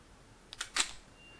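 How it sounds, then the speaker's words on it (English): Two soft mechanical clacks in quick succession, a Nikon D3x's mirror flipping up in mirror lockup mode and shutter firing, close but quiet against faint room hiss. "So in real mirror lockup mode, it's going to sound like this."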